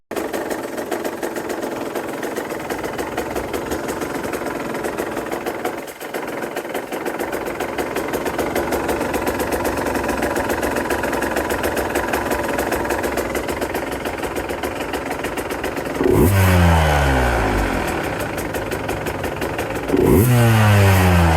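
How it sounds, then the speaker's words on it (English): A 2023 Husqvarna or KTM 150 TPI two-stroke dirt bike engine idles with a steady, close, buzzing putter, then two sharp throttle blips near the end rev up and fall quickly back to idle. "The following clip shows the 3 full throttle blips to reset the TPS table in the ECU, and then check for no hanging idle and smooth idle"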